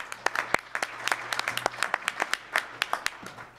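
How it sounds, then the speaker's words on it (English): Steady applause from a crowd at an internet governance forum session, with sharp individual claps popping out over a continuous patter, fairly close and lively throughout. "please give them a round of applause."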